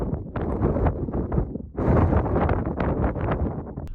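Strong wind buffets and roars across a mountain summit, Phoenix Peak among Colorado's 13,000-foot peaks, gusting loudly and continuously with rushing, blustery surges and no voices.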